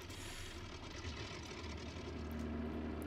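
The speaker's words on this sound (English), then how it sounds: "The engine sounds are very steppy." Virtavia F7F Tigercat twin piston-engine warbird in Microsoft Flight Simulator, its engines droning steadily with a low rumble, close and continuous throughout.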